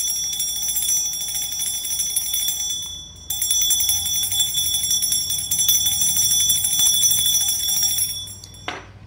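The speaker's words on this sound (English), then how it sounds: "Can y'all hear the bell?" A bell rings with a sustained, bright metallic tone at a spiritual reading, with faint background hiss and a brief break midway before it continues steadily to the end.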